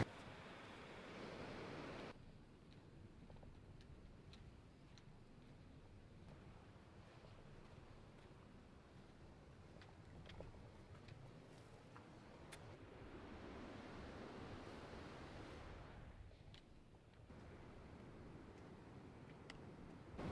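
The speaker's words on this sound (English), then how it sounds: "the rocks in the background just getting absolutely smashed with big waves. You can hear them booming" Big ocean waves boom and crash against rocks on a wild Australian coast, a steady roaring wash of surf with wind buffeting the microphone, swelling louder in the middle and easing toward the end.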